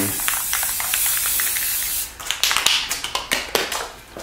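Aerosol spray paint hissing steadily onto the floor of a Walthers Cornerstone three-stall model roundhouse, a continuous spray for two seconds followed by a string of short, sharp bursts, close and loud with no talking.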